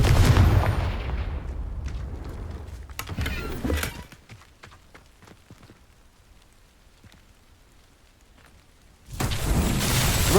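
Confringo fire spell cast in Hogwarts Legacy, a loud fiery blast and crackling burst at the start, a smaller boom around three seconds, quieter rumbling debris, then another loud blast near the end.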